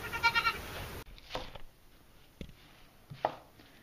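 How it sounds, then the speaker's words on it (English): Onions chopped with a knife at an outdoor rocket-stove cookout: a few sparse, close knife strikes on a board, preceded by a brief bleating sound. "chopping up some onions, plenty of onions"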